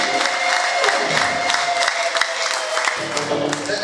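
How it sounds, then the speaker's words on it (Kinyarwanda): Church congregation clapping steadily together during a Rwandan worship service, a dense continuous patter of many hands with some crowd voices mixed in, loud and sustained throughout. "Reka turiho amashyi cyane mu Brazil"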